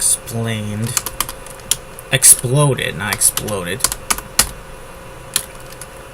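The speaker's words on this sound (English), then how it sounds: "All I need is the regular typing. You know, the little click of keys that I love so dearly." Computer keyboard typing with irregular bursts of small, sharp key clicks, close by, partly under a voice that speaks at intervals.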